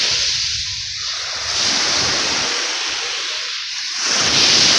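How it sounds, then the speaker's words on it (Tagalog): Rough sea near Fortune Island churns with steady, loud surf and rushing water, with wind buffeting the microphone in slow surges. "Medyo po magalaw-galaw ang dagat dito sa amin."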